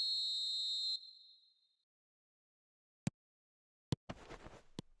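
A referee's whistle in the football video game eFootball 2026 sounds as one long, loud, steady blast lasting about a second, then fades. Short clicks and a burst of crowd-like noise follow after a pause.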